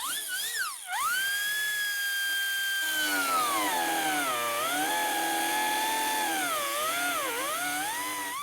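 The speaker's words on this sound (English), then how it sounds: "Now over here, I am going to cut this flange apart." A power tool cuts apart a rusty, crusty double-layered steel flange during rust repair, producing a continuous piercing high whine whose pitch sags and rises as the blade loads, with a brief drop near the start.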